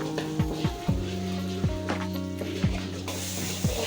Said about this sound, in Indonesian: Orak-arik telurnya sampai betul telurnya masak